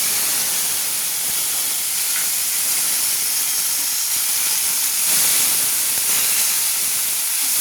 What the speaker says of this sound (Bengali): এই টমেটো কুচি আমি ধুয়ে রেখেছিলাম, সেটা আমি দিয়ে দিলাম কড়াই।